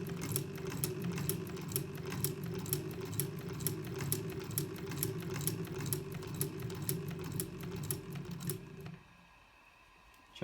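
An antique German Winselmann transverse shuttle sewing machine stitches through two layers of denim, a steady rapid clatter of needle strokes running continuously for about nine seconds before stopping abruptly into near quiet.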